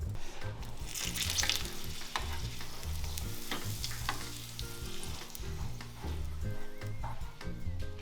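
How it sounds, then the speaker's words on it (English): Dried crusco peppers fry in oil in a home Italian kitchen with a steady close sizzle and crackle, broken by occasional clinks and stirring taps, with no talk. "Then she briefly fries the pepperoni crusco."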